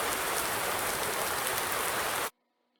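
Steady rain hisses down in the Farm Simulator 19 farming game, a dense, even wash of drops that cuts off abruptly just before the end, leaving near silence.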